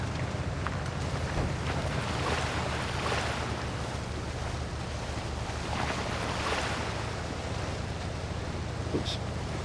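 A truck in the Mudrunner off-road game, an Old Timers DLC vehicle, ploughs through water, a steady churning wash with a low engine drone running beneath it throughout, loud and continuous with no talking.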